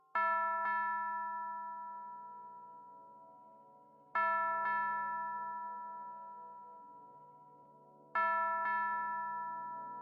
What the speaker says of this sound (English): Rang the big golden bell.